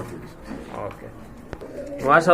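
Soft low pigeon cooing murmurs close by at a pigeon farm, under a person talking, with a louder coo near the end.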